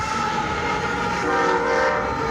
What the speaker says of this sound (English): there comes our train. Classic train, always interrupting the video.